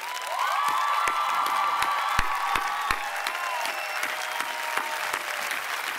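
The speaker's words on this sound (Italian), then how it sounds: "vorrei fare un applauso a questa terra meravigliosa" Dense applause from a large concert crowd at a show, steady and loud throughout with sharp individual claps popping out, a few cheers rising through the wash.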